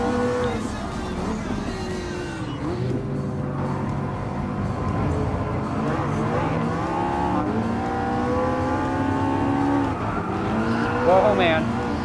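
A McLaren race car in Gran Turismo Sport, its engine note rising and falling steadily through gear changes with tire noise underneath, continuous and close, with a brief squeal near the end.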